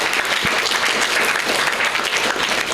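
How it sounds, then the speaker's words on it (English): A crowd at a NEET results press meet breaks into loud, steady applause, many hands clapping together in a dense, continuous patter that carries evenly from start to finish. "You have to give him a huge round of applause."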